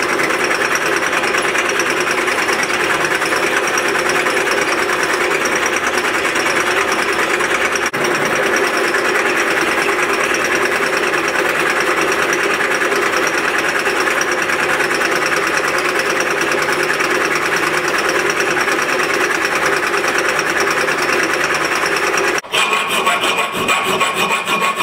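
A drill bores holes in the handle of a knife forged from scrap, a loud continuous grinding whir that runs almost unbroken, with a brief jolt near the end.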